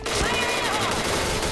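Rapid automatic gunfire in the shooter Point Blank Zepetto rattles continuously for a moment, loud and dense, mixed with game effects.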